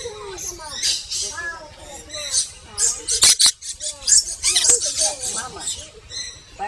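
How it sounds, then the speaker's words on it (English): Close, piercing squawks and chattering squeals come from parrots at a Pigeon Forge, Tennessee bird attraction, arriving in rapid irregular bursts while people talk nearby. "Hey, you naughty little bird."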